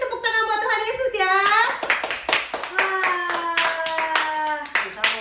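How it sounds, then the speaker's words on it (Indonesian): Children clap their hands together at a church service for kids, a run of sharp, fairly close claps mixed with singing and cheerful voices over a little more than five seconds. "kita mau sama-sama kasih tepuk tangan buat Tuhan Yesus ya."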